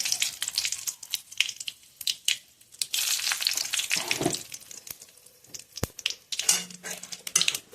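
Split dried red chillies fry in oil in a pan for lemon rice, uneven bursts of hissing sizzle and crackle close by, with a few sharp clicks and no talking.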